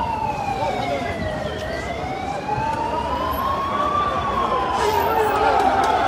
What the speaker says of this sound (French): Donc les pompiers sont en train de passer.